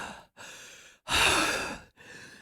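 A woman climbing stairs with effort lets out heavy, loud breaths: three separate exhalations, the middle one longest and strongest, each broken by short pauses.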